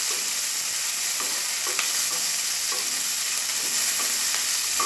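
Cabbage, green chillies and onions fry in a pan with a loud, constant sizzle, and a spoon scrapes now and then as they are stirred.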